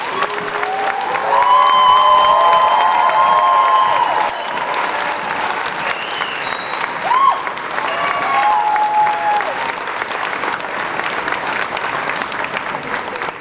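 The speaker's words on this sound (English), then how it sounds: "Could we have a round of applause for the entire fourth grade?" A school audience at a fourth-grade moving-up ceremony applauds and cheers for the whole class, sustained dense clapping with whoops and whistles rising over it, lasting the full stretch and easing slightly midway.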